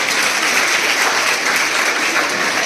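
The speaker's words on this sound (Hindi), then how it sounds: "तालियां हो जाए एक बार जोरदार मेरी बच्चियों के लिए" An audience at a school program gives loud, steady applause for the schoolgirls, a dense continuous clapping with no voices over it.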